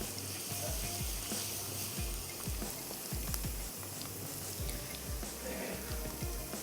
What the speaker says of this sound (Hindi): मसाले के साथ भी अगर हम उसे भूनेंगे तो बहुत अच्छी सी वो सॉफ्ट हो जाएगी